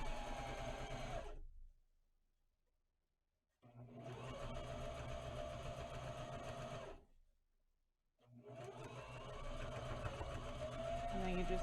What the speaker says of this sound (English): And then you just keep sewing around.